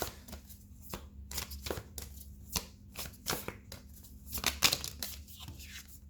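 A deck of tarot cards is shuffled repeatedly, close up, in a series of quick papery riffles and flicks with short gaps between bursts.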